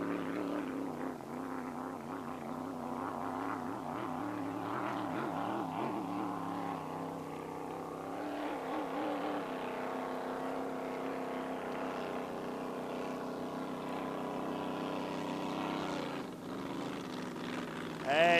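A GP1 racing boat powered by an 1,800-horsepower supercharged alcohol Chevy engine runs its warm-up at Paynesville, a loud droning engine note that rises and shifts in pitch as it passes, with a commentator talking over it.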